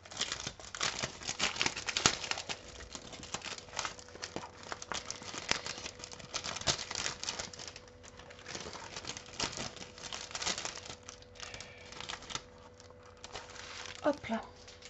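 Paper packaging being opened and unwrapped for a handmade theatre card, giving steady crinkling and rustling with small tearing snaps, close and fairly quiet throughout.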